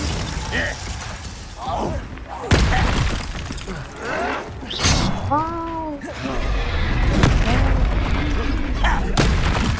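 A Confringo spell explosion in Hogwarts Legacy, with sharp booming blasts and shattering crashes among whooshing, swooping game effects, loud and close, while a person talks at times.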